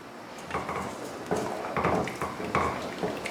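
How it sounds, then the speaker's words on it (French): A spoon scrapes and knocks around a pot of Moroccan harira soup on medium heat, giving a steady series of close, moderate stirring clatters with no talk. "Et en même temps, je mélange."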